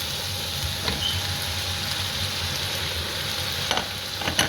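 Chopped carrots and beans stir-fried with pork in a hot pan, a steady broad sizzle with scraping stir strokes now and then, close and alone without talk.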